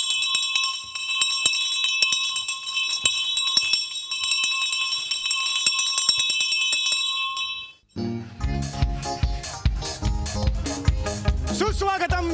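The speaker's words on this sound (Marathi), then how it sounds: "तिसरी बेल द्या" A theatre's third bell rings before a stage play, a loud continuous electric ringing that runs about eight seconds, then cuts off as music starts.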